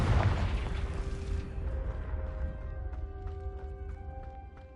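Confringo fire-blast spell cast in Hogwarts Legacy: a loud, booming burst opens, then settles into a rumbling tail overlaid with sustained shimmering, ringing magical tones that slowly fade.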